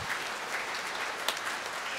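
A church congregation clapping loudly during a December Advent homily, dense sustained applause filling the whole moment with no talking over it.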